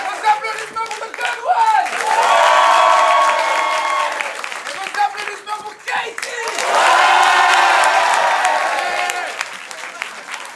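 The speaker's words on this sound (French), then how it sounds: "Vos applaudissements pour The Good One! Et vos applaudissements pour Katie!" An improv festival audience in Paris breaks into two separate rounds of loud applause and cheering for performers, each swell lasting a few seconds, with brief spoken lulls between them.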